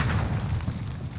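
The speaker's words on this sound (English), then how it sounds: "Drop your C4 on the corner, give the distraction." A C4 charge detonating in Call of Duty battle royale, a heavy low rumbling boom that fills the whole moment with sustained bass energy and no voices.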